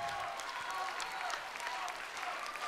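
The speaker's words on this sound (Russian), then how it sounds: "Ваши бурные аплодисменты, Галымжан Ауизбай" A live audience applauds during a record-setting stunt show, a steady wash of clapping heard fairly faint and distant, with a faint tonal hum underneath.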